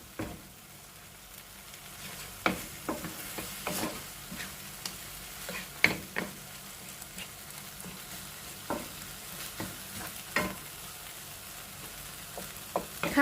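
Meat stir-fried with seven spice powder in a pan, filling the scene with a steady sizzle, scraped and tossed by a utensil in repeated irregular strokes, close and moderately loud with no talking.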